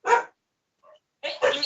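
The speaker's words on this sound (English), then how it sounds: "And the dog is joining." A dog barks nearby, with one sharp bark, a brief faint sound in a pause, then a quick double bark.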